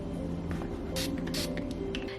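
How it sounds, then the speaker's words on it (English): A few short hissing sprays from an aerosol home fragrance bottle puff out over a steady low background hum. "May also spray it with some kind of home spray so it smells nice."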